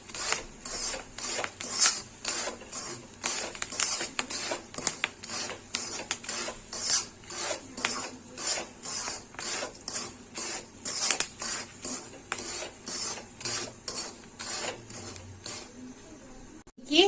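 Black chickpeas (kala chana) roast in a dry pan while being stirred nonstop, giving a rapid run of rattling, scraping strokes that repeats steadily throughout.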